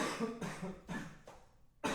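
A person coughs repeatedly in a quiet room, four or five dry, close coughs in quick succession, fairly faint and with no speech.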